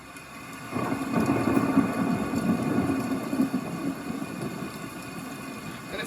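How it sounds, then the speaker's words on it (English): Thunderstorm white noise streams from a Google Home Mini smart speaker: steady rumbling rain and low thunder roll in after a quiet start and continue evenly to the end, with no talking. "could you play some Thunderstorm white noise?"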